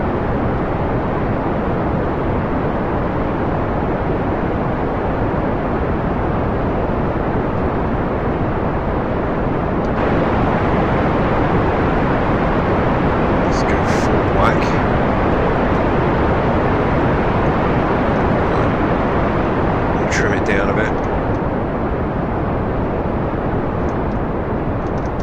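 Rocket engine throttling up in Kerbal Space Program, a dense, loud, continuous roaring rumble that steps up slightly partway through and stays steady, with a few faint high chirps on top and no talk.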